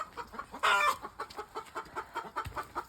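Hens clucking on a farm in the morning after being let out to feed, a rhythmic run of short near clucks with one louder squawk in the middle, no talking.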